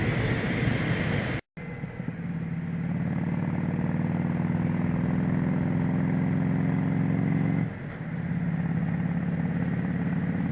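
A motorcycle carrying two riders climbs uphill with its engine droning steadily and loudly up close, its pitch rising slowly, then a brief gear change, under rushing wind noise.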